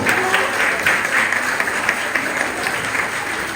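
A crowd applauds with dense, continuous clapping at close range, steady and loud throughout.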